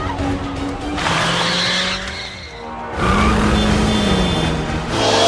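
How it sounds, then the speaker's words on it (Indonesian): A stolen police motorcycle tears away in a chase scene from the film The Gray Man, a loud close engine roar with screeching, skidding tires and a surge after a brief lull, no talk. "Dia berhasil mengambil chip darinya dan kabur menggunakan motor polisi yang terparkir di sana."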